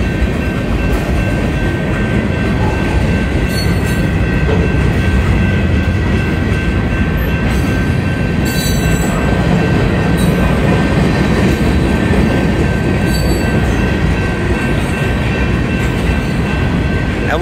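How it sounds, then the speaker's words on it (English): Union Pacific 7730, an outbound manifest freight train passing at Southern Ave in Mesa, makes a loud, continuous close rumble of rolling wagons with faint wheel squeal and clatter throughout. "Okay, the end of the train is coming up."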